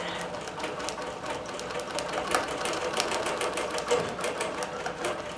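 A computerized quilting machine stitches a quilt's sashing border, giving a continuous, even, rapid mechanical stitching rhythm at moderate loudness.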